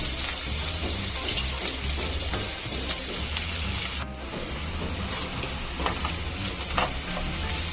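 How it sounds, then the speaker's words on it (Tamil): Onions with salt frying in a pan while a brinjal gravy is cooked, giving a steady close hiss and crackle of sizzling oil with occasional faint stirring clicks. "நல்லா வெங்காயம் வந்து நல்லா வதங்குது."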